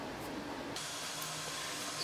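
Steam hisses steadily into the dovetail neck joint of a Martin twelve-string guitar, a continuous broadband spray that stays close and constant, with a brief quieter stretch at the start before the full jet.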